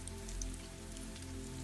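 Rain falls steadily on a greenhouse cottage, a soft even patter with scattered drops, faint and continuous with no voices.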